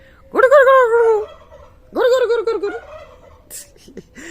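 Turkeys gobble twice in loud, warbling bursts close by, a pause between them, followed by a brief soft rustle.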